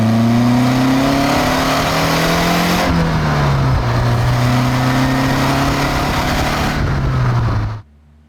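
A 1979 Lotus Esprit S2 engine revs loudly and close, its pitch climbing, dipping and climbing again in sustained pulls before cutting off abruptly near the end.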